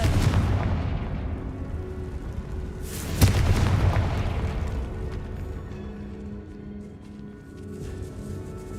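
A Confringo blasting spell explodes in Hogwarts Legacy, inside a decaying catacomb: a deep booming burst with a sharp crack near the middle, over a low rumbling bed that slowly fades.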